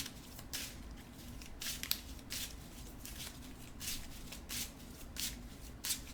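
A deck of playing cards is shuffled repeatedly during a Marvel Champions card game, giving quiet, crisp riffling bursts in an irregular rhythm over a low background hum.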